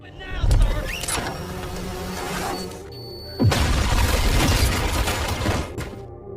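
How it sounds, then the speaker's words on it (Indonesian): An explosion in an action film about a hitman fighting three police officers: a sharp blast with shattering debris, a brief lull, then a second loud burst of crashing noise, while a narrator talks. "Karena ledakan tersebut, Picasso pun berhasil kabur"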